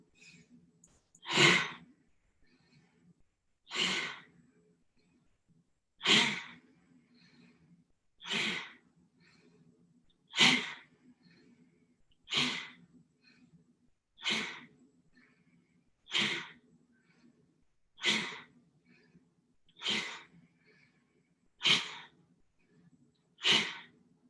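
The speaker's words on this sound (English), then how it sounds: "Start to go a little faster. This is called breath of fire." Breath of fire, a rapid kriya breathing exercise, performed as eleven forceful nasal exhales spaced about two seconds apart, each a sharp close rushing puff with quiet gaps between, with no talking.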